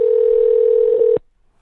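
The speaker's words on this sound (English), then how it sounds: "We're calling up Blizz." A steady telephone dial tone holds for about a second, loud and alone, then cuts off abruptly into silence.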